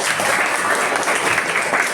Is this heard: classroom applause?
yes